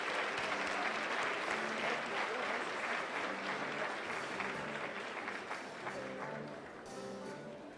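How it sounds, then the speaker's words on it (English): An awards-gala audience gives a sustained round of applause for a minority entrepreneur of the year honoree, dense and continuous from a large crowd, slowly tapering off toward the end. "Let's give him another round of applause"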